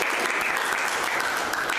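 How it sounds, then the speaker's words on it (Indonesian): Steady applause from a group, even and continuous clapping with no voices over it. "tepuk tangan untuk kelompok"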